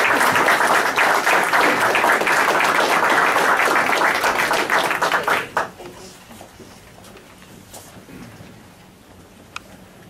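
An audience at a council reorganization meeting claps in a loud, dense burst for about five seconds, then it fades quickly to a few scattered claps and room quiet.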